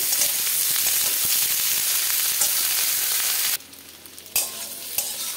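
Sliced eggplant with a little chopped onion sizzles and hisses steadily in a pan, with stirring scrapes running through; the frying drops quieter for a moment near the end, then resumes with a couple of sharp stirs.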